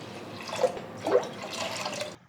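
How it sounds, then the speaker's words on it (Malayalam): Water poured into a pressure cooker holding washed gram dal and broken wheat, a steady splashing pour of liquid running for about two seconds and then cut off, with no talk over it. "വെള്ളം കൂടി ഒഴിച്ചു കൊടുക്കാം."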